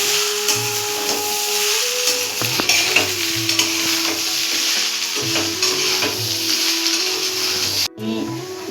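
Chicken slowly sautéing in a pan over a low gas flame, a steady sizzle and hiss with repeated spoon scrapes and stirring strokes, with water heating beside it.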